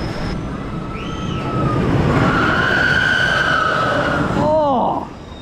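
A rough roller coaster at Fun Spot America in Kissimmee running past with a long rising metallic screech and whine over rumbling wheels, ending in a few shrill squeals.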